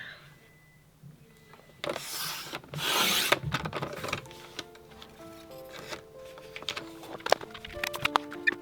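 Scrapbook paper has its border trimmed, giving rough rubbing and rasping swipes followed by a series of short scraping and clicking sounds, close and fairly quiet.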